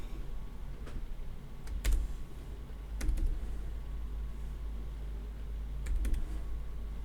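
Computer keyboard typing a word into Wilcom embroidery software, heard as a few sparse, close clicks and key taps spread over the clip against a steady low background hum, with no one talking.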